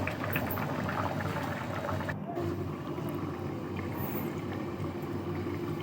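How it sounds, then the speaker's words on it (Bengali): Vegetable curry gravy with egg, potato, cauliflower and tomato boiling in a pot: steady, dense bubbling and simmering hiss, continuous and close, with a brief dip midway. "টক করে ফুটছে ঝোল"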